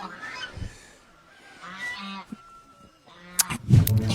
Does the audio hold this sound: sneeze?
no